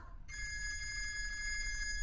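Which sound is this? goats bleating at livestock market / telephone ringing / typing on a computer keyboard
telephone ringing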